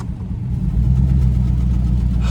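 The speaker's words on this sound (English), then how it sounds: "you hear the exhaust rattle like that?" An old Mercury that has sat unused for years revs with a low, rough engine drone, its exhaust rattling as the revs build and hold steady, close and loud.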